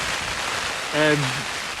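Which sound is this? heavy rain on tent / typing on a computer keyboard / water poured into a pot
heavy rain on tent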